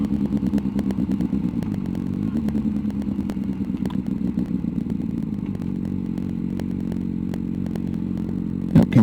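A motorcycle riding along and slowing to a stop, a steady engine drone whose pitch falls away, broken by frequent small clicks and clatters, with a louder rattle at the very end.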